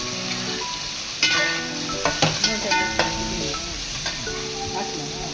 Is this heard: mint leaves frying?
yes